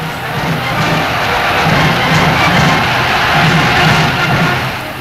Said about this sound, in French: la ville en liesse acclamait ses libérateurs